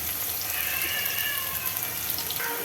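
Okra (bhindi) frying in oil in a pan with occasional stirring, a steady bright hiss and crackle that stays even throughout with no talking.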